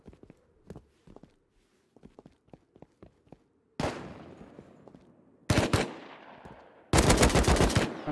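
AK rifle fire in the video game Rust: faint scattered shots at first, then three loud, dense bursts of rapid automatic gunfire with ringing tails, close and dominant, no talk.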